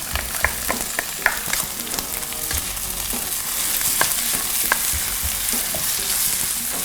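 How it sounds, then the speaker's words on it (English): Red and green peppers frying in a pan for a fried rice dish, a continuous close sizzle broken by repeated sharp clicks and scrapes of a utensil stirring them, with no one speaking. "Fry this for a few seconds, 20 to 30."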